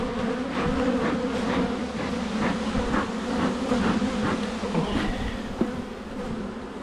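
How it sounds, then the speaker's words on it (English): Honeybees swarm around an opened hive at the queen excluder during an inspection, making a dense, steady buzz that stays close and constant throughout with no talking. "You'll also see quite a few more bees come out."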